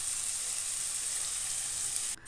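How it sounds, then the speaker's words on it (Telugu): Ridge gourd peel fries in a little oil in a kadai, making a continuous bright sizzle up close that drops away briefly at the end, with no talking. "కడాయిలో ఈ బీరకాయ తొక్కు మొత్తం వేసేసి కొంచెం ఆయిల్, 1-5 స్పూన్స్ ఆఫ్ ఆయిల్ వేసేసి ఫ్రై చేసుకోవాలి కొద్దిసేపు."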